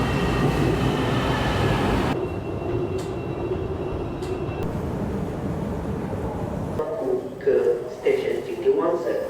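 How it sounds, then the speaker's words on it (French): A modern metro train in Kuala Lumpur runs with a steady rumble and rushing roar, briefly joined by a faint high whine. The sound then quiets as brakes hiss and squeal near the end, with people talking in the background. "Un petit bijou ici, les lignes de métro."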